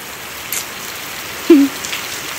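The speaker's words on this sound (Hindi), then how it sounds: "ओहो, इतनी बारिश हो गई है दर्शकों।" Heavy rain falling outdoors, a constant soft hiss of drops with a couple of brief louder knocks, no voices.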